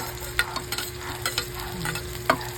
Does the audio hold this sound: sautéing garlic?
yes